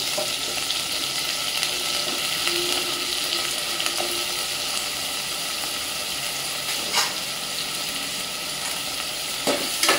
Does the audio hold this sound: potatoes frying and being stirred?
yes